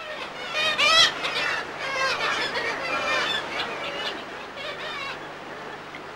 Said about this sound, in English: Kittiwakes crowd in just below the cliff tops, and their plaintive calls are a familiar sound